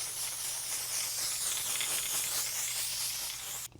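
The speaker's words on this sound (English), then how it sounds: "Last but not least, use the dry setting spray." Dry makeup setting spray hisses onto a face in one continuous, fairly quiet, close spray lasting a few seconds, ending with a brief click.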